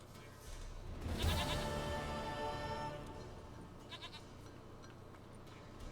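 A goat bleats in the video game The Witcher 3, one loud, wavering, nasal cry close by with a few shorter bleats trailing after it against a quiet background.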